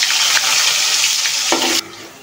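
Chicken balls fry in hot oil in a pan with a loud, close, continuous sizzle and some stirring scrapes, cutting off abruptly near the end, with no talking.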